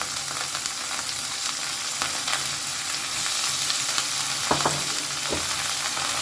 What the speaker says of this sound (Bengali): এই ডালটাকে কিন্তু এবার আমি একটু ভালো করে ভেজে নেবো